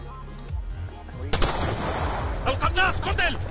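Sharp, loud sniper rifle shots ring out during a Search and Destroy match in Black Ops 2, followed by reverberating gunfire and game effects in a busy, close mix.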